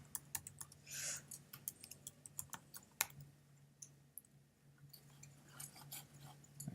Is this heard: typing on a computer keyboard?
yes